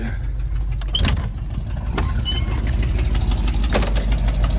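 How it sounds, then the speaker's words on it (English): A motorhome engine running close by, a steady low rumble with a few clicks and knocks on top. "we're gonna put this thing back on, so we ain't gotta listen to that motor quite so much"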